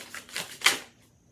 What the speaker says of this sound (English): Let me pull a couple more cards for this.